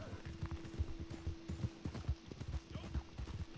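A riderless horse in the Red Dead Online video game gallops away, its hooves making a quick, rhythmic clip-clop with a faint steady tone underneath.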